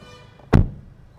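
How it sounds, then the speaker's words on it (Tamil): A single solid thud of an MG Astor SHINE variant car door shutting, heard close up and alone in a quiet cabin, with a sharp onset and brief decay. "ஓகே, டோரோட தட் எஃபெக்ட் கேளுங்க."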